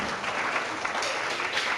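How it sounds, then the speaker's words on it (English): An audience at a school award presentation applauds a class, a dense, even wash of clapping from many hands filling the whole moment at moderate distance. "can we give a round of applause for Class 3?"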